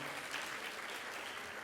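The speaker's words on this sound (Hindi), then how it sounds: "जोरदार तालियां बजा दीजिए।" Steady, dense applause from a crowd of listeners at a Shrimad Bhagwat Katha religious discourse gathering, continuous and even throughout with no voices breaking through.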